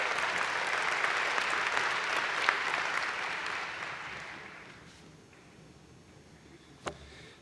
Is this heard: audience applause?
yes